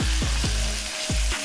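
Pork chops in black bean sauce sizzle loudly and steadily in a hot pan, with several low thumps as pieces are flipped and set back down; no talking.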